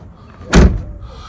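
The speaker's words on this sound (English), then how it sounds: "The door opens, it doesn't get caught." A single close, heavy thud as a car door swings shut, on a vehicle bought from a salvage auction, with quiet room noise before and after.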